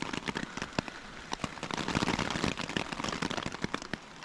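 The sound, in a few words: rain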